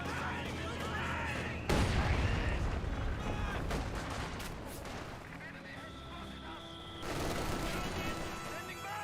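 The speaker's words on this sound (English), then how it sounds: "They took a direct hit there from that mortar." A mortar round hits during a Company of Heroes 2 battle, a heavy crashing blast at about two seconds followed by rumbling gunfire and a second loud burst near the end, with a voice talking over the mix.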